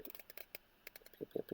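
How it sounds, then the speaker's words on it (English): Paper pages of a printed game manual for Earl Weaver Baseball II are flipped, making faint, scattered rustles and soft papery flicks in a quiet room, with a few slightly louder page turns toward the end. "You can hear me flipping through the manual here."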